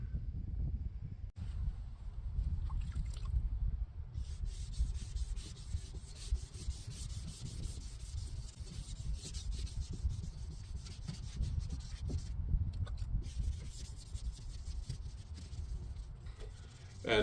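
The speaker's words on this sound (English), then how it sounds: "I did a wet sand on it, sanded the whole body with wet sandpaper" Wet sandpaper rubbing over a painted truck body, a continuous low scrubbing hiss with steady back-and-forth strokes, close and fairly quiet, without talk.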